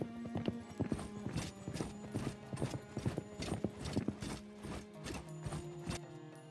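Horse hooves clip-clopping in the Stronghold video game, a quick, evenly spaced run of sharp hoofbeats close and clear over a soft background tone, with no talk.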